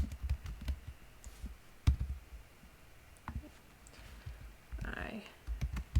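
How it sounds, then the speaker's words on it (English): Soft, irregular clicks of typing on a computer keyboard with a bandaged finger, quiet and close, with a few sharper taps and a low rustle near the end. "typing with Band-Aid on your finger is a little weird"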